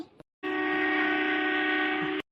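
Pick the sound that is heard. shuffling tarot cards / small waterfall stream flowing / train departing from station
train departing from station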